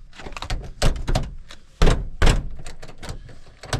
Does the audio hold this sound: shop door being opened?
yes